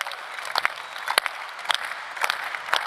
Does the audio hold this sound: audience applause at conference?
yes